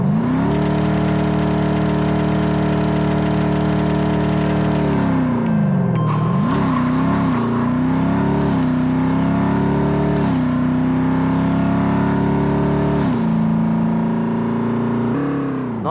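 Ford Mustang GT with boost engaged in the Racing Rivals drag-racing game, its engine droning loud and steady, revving up through several gear shifts with sharp pitch drops, a brief lull near six seconds, then climbing again to the end.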